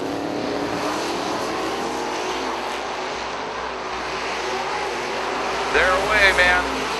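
Drag race cars, a 1965 notchback Mustang and a Monte Carlo, launching at the 2012 IHRA Tournament of Champions: a broad, distant engine roar that swells near the end, with a commentator's voice over it.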